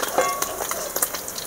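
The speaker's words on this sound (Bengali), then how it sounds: "এবার লাল করে আমি ভেজে নিয়েছি, মাছ ভাজা হয়ে গিয়েছে" Fish fries in hot oil to a red-brown finish, giving a steady close sizzle and crackle with a few faint clinks of a utensil.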